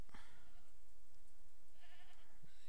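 Goats bleating in the video game Jade Empire, a couple of nasal bleats close by, the second one longer and louder, with no talking.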